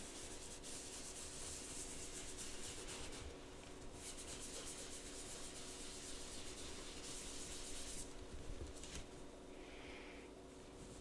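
A bar of soap rubbed lightly across tarot-sized card stock, making a continuous dry scraping hiss with brief pauses between strokes, close and quiet.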